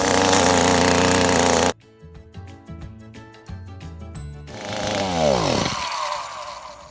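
An Echo SRM225 string trimmer with a newly replaced carburetor revs hard with a loud buzzing two-stroke whine, drops to a rough idle with some clattering, then throttles back up to a high roaring rev and winds down.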